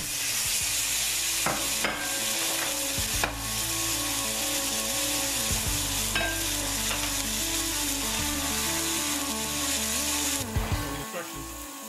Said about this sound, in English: All right, let's get the steaks in.